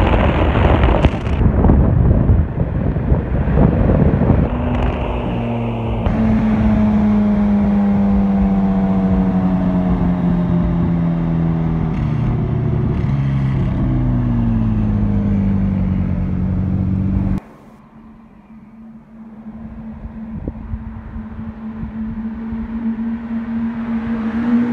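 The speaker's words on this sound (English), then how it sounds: "Blacked out G-Wagon here and an Aventador." A blacked-out Mercedes G-Wagon and a Lamborghini Aventador rev their engines outdoors in Cape Town, loud and close, with rising and falling roars and some wind buffeting before dropping to a steady idle.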